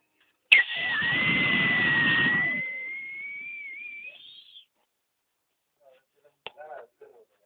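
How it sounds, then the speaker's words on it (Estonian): A small ship's steam whistle bought for three euros gives one loud, sustained high shriek lasting about four seconds that wavers slightly in pitch before cutting off, followed by a brief child's whimper. "Päris võimas vile."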